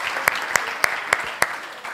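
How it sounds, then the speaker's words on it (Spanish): A gathered audience at an anniversary celebration applauds Carlos Palomera, a loud, dense wash of clapping punctuated by a few evenly spaced sharp claps, with no one speaking over it. "¡Un aplauso para Carlos Palomera!"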